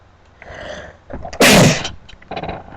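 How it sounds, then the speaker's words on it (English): One loud, sharp sneeze bursts out close to the microphone, preceded by a short intake of breath and followed by faint vocal sounds. "I'm about to sneeze."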